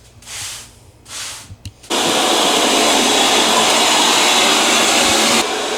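A vacuum cleaner works over a bare closet subfloor after carpet removal, first in two short swooshing bursts, then a loud, steady roar for several seconds before shutting off.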